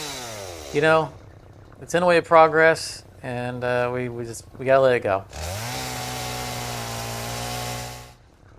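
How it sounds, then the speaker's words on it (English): A chainsaw cuts down trees in Satisfactory, revving in choppy bursts with someone talking over it, then a long continuous buzzing cut at the end. "Let's get out the chainsaw and just,"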